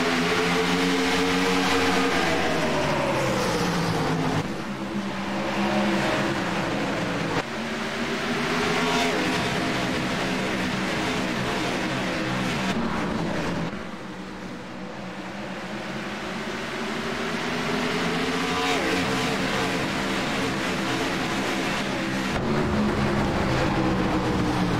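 Race cars at Richmond in iRacing roar through a restart, with loud, sustained engine whine rising and falling as the pack accelerates and shifts, briefly easing mid-way before building again.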